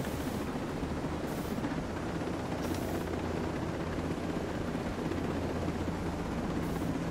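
Slow helicopter flying in the video game Ghost Recon Breakpoint, a continuous loud rotor drone with steady low throbbing and no pauses.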